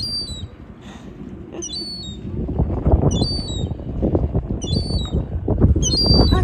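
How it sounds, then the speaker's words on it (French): Whistling birdsong on a seaside walk at Le Croisic, with repeated bright chirping phrases recurring every second or so above a steady wind and surf-like background rumble. "Tu regardes un autre oiseau qui fait... Il chante."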